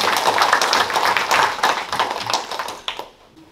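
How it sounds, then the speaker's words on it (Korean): Audience applause at a ceremony marking ten years of the Nogeun-ri Peace Park, dense clapping that holds steady then tapers off over the last second into quiet. "큰 박수를 맞이해 주시기 바랍니다."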